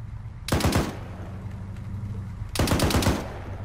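Two loud bursts of .50 caliber machine gun fire in the video game Arma 3, each a quick rattling volley about half a second long, separated by a low ambient rumble.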